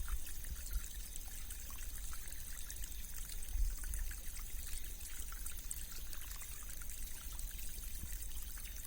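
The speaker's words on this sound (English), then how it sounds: "The sweet sounds of the water" Water trickling in a natural stream, a soft, continuous burble and splash of flowing water, faint and steady throughout with no voices.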